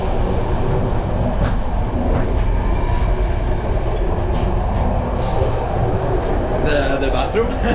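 Old-style passenger train riding through the Romanian countryside, with a steady low rumble and rolling wheel noise throughout, loud and close from inside the carriage, with faint clicks and squeaks on top.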